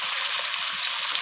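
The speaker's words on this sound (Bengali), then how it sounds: "তো ওলকপিগুলোকেও আমি আলুর মতো করে লালচে করে ভেজে নেব।" Pieces of kohlrabi fry in hot oil, giving a dense, steady, bright sizzle that carries evenly and close throughout, with no talking.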